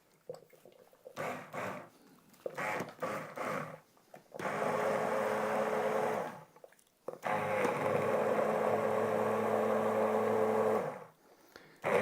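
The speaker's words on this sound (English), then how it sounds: "What I'm using here is an immersion blender. This is a KitchenAid." A KitchenAid immersion blender purees broccoli cheddar soup in a pot, first in short loud bursts, then in two long continuous runs of steady whirring motor drone with gaps of near silence between.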